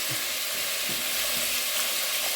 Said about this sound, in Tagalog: Ipiprito muna natin yung karne sa olive oil.